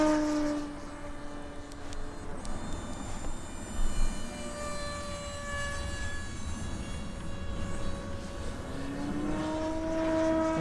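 A micro electric ducted fan RC jet plane with self-levelling flies at half throttle, a steady whining drone with tones that slowly bend in pitch as it passes, fairly loud and continuous with no talk.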